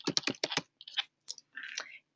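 Login credentials typed on a computer keyboard: a quick run of five crisp keystrokes, then a few isolated taps and a short clattering burst, close and clear in a quiet room.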